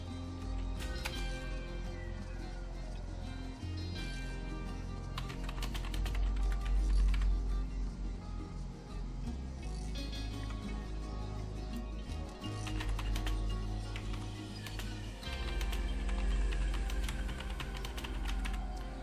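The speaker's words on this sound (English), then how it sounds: "My typing is terrible today." Typing on a ZX Spectrum keyboard while playing a Sherlock adventure game: a steady run of close, clicky keystrokes over a low background hum.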